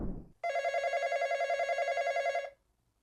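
A telephone rings in one continuous electronic burst of about two seconds, loud and clear in a quiet room, cutting off abruptly, with a brief voice just before it starts.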